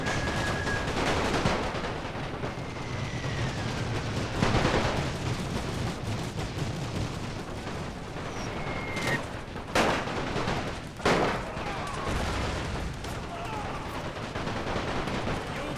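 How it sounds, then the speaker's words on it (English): Machine gun fire in a First World War battle in a video game pops in rapid bursts and scattered single shots over a constant battlefield din, with occasional louder reports up close. "See that how well the machine gun works, and especially at close range."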